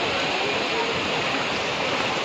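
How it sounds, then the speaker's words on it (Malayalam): Strong floodwater rushes past during heavy rain in Dagupan city, a steady loud broadband roar with no pauses and no other sound over it. "അടിപൊളി ഒഴുക്കിലാണ് വെള്ളം പോണത്. നല്ല ശക്തിയിലാണ് പോണത്"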